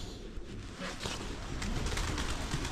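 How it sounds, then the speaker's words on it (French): Pigeons cooing on a pedestrian street in Troyes, soft low coos close by over a hiss of street ambience that swells slightly toward the end, no talking. "Oh, et pigeons de Troyes."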